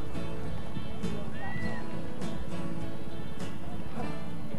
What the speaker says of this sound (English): This is the Arab horse ring at Bakewell Show in Derbyshire.